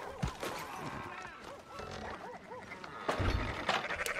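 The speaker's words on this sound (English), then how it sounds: "Fine sheep." Sheep bleat in Red Dead Redemption 2, several wavering calls in quick succession at moderate distance, mixed with game ambience and a louder thump toward the end.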